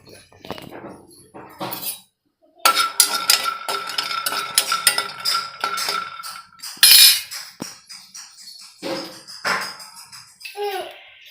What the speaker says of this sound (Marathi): शेंगदाणे भाजून घेणार आहोत आपण